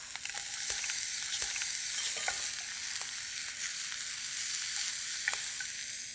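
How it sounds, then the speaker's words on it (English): Garlic and yellow peppers sizzle in a hot pan during a quick sauté, a steady frying hiss broken by the scrape and clack of stirring, close and moderately loud with no speech. "Now into this goes our yellow peppers. Just a nice quick saute."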